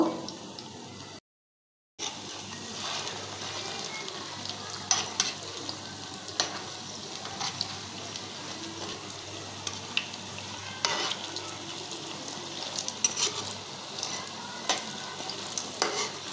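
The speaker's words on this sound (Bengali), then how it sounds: "তো আমি এগুলো লাল লাল করে ভেজে নেব। অল্প আঁচে ভাজতাছি" Fish and lentil koftas fry gently in oil over low heat, a continuous soft sizzle with occasional stirring taps and scrapes; after a brief gap near the start, the frying carries on steadily without talk.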